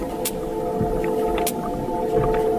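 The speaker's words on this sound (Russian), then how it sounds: "Итак, я слышу кашалота. Ровные щелчки." Sperm whale clicks picked up by an underwater hydrophone: a few sharp, evenly spaced clicks over a steady hum and low rumble of ocean background noise.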